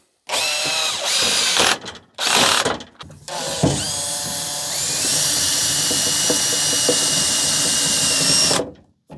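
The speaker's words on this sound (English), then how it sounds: "to tighten them up I'm just going to use a socket with an extender and a converter onto the drill" A power drill at maximum torque, fitted with a socket and extender, tightens bolts in a few short bursts, then runs in one long continuous spin that strains and rises in pitch before stopping.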